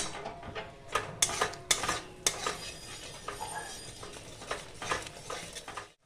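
A spoon stirs mustard and tamarind tilapia curry in a metal pan with repeated clinks and scrapes against the pan, irregular and close, over a low sizzle.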